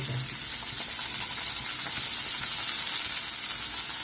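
Chopped tender spring onion greens sizzle loudly in hot oil for a brinjal bharit tempering, a steady dense hiss that fills the whole stretch with no talk.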